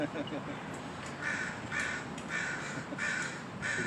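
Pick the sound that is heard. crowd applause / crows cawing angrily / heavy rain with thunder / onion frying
crows cawing angrily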